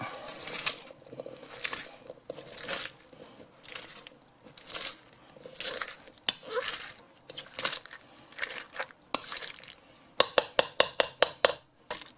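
Blueberries being mashed in a pot for jam, with wet squishing and crunching strokes close up, irregular at first, then a quick run of sharp clinks as the masher strikes the pot.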